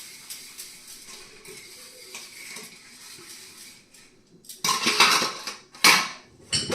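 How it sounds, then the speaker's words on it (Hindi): Dishes, pots and utensils clatter during fast hand dishwashing in a home kitchen, a quieter stretch of light clinks giving way to louder, close bursts of metal clanking and scraping near the end. "मैं फटाफट बर्तन साफ कर लेती हूँ"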